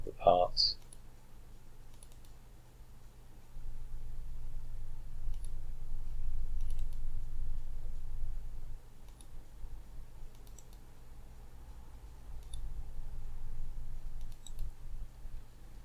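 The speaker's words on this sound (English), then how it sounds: "left click, double click" Faint computer mouse clicks, single and doubled, tick at a steady pace over a low room hum while parts of a folding shovel sheeting assembly are selected in software.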